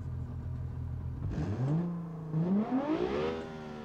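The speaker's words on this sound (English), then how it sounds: "Why does it rev up so slowly?" Car engine in the Automation video game, an FWD build, revving up slowly from a steady idle into a rising, sweeping whine that climbs, dips and climbs again, loud and alone with no talk.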